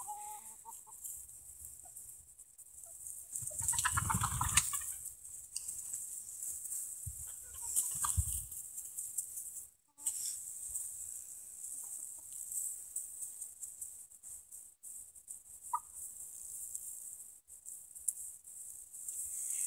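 Two roosters and a flock of hens on a farm cluck close by, with a louder flurry of clucking about a quarter of the way in and short scattered calls afterward, against a hissing background.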